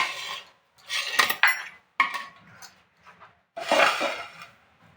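Crushed cardamom biscuit being mixed in a bowl for a bottle gourd and biscuit cake, heard as several separate bursts of scraping and clinking of a utensil against the bowl with short pauses between them.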